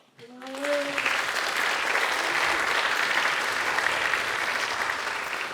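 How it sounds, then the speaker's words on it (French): Audience applause at a conference on high-impact careers, welcoming speaker Capucine Griot: dense, steady clapping from a sizeable crowd that swells quickly and holds at full strength throughout. "Je prie d'applaudir Capucine"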